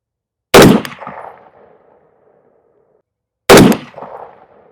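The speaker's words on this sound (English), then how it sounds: "We'll just take a couple of shots" .308 Win rifle shots, two loud sharp reports about three seconds apart, each followed by a decaying echo that rings out over open ground.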